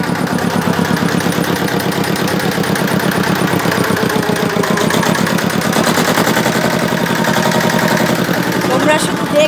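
A boat engine on the Ganga river chugs with a loud, steady, close rhythm that runs unbroken through the whole stretch.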